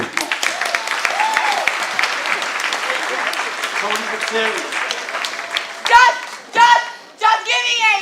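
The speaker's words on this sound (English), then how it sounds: "Clap it up for her." Audience applause and clapping ring out at a high school sports awards ceremony, steady and sustained across the room with voices mixed in, then thinning as a speaker's voice and scattered cheers take over near the end.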